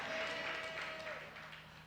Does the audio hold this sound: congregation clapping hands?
yes